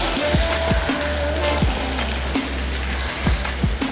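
Taro root frying in hot oil as spices are tossed in, a steady close sizzle and crackle with a few sharp spits and pops recurring every second or so.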